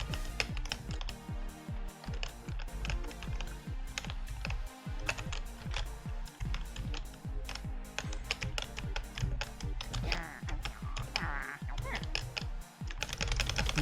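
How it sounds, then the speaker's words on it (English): Arrow keys on a computer keyboard pressed during a video game, a fast and steady run of clicky taps continuing alone for the whole stretch, fairly close and loud. "I was using my arrow keys."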